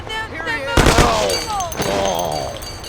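Gunfire in the 1930s-style gangster video game Mafia: The City of Lost Heaven, a burst of loud close shots amid shouting voices.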